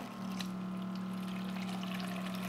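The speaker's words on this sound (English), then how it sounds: "We'll get some water this way." Water runs steadily from a kitchen sink tap into a bowl, a continuous close pouring rush with a low hum beneath it and no talking.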